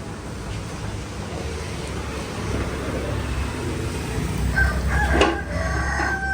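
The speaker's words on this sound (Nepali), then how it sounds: "यो लोकल भाले छ त" A local rooster at a chicken meat shop crows once, clearly and nearby, toward the end, over a steady background of street noise and faint voices.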